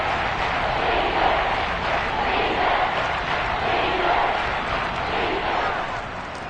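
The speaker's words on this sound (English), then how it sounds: "This red zone is where the Seahawk crowd really makes it tough for an offense to communicate" Seahawks stadium crowd at a football game roars as a dense, sustained wall of cheering and shouting, loud and continuous before easing slightly at the end.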